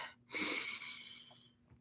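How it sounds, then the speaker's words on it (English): A single deep breath drawn in during a box breathing exercise, a soft, close airy inhale lasting about a second, quiet and alone with a faint steady hum beneath. "First, let's take a deep breath in."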